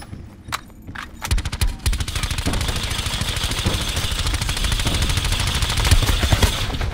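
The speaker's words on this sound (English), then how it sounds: "He's on the staircase shooting the shit out of me." Rapid automatic gunfire rattles almost continuously in the Black Ops 4 Blackout battle royale, loud and close, the bursts running together after a few scattered shots at the start.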